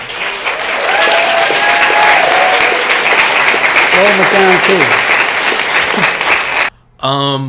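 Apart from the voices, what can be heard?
people clapping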